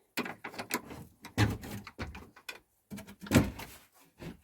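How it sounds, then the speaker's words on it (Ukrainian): Wire rabbit cage doors being opened one after another while the cages are disinfected, giving a series of separate metallic clanks and rattles, close by with short quiet gaps between them. "І повідкриваю ось ці клітки."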